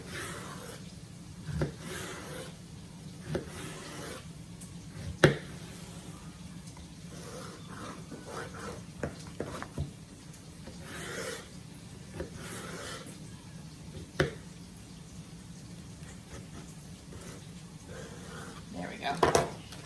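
Knife chopping zucchini on a cutting board in a home kitchen, a series of sharp, irregular taps close by, some louder than others, over a low steady hum with faint background noise.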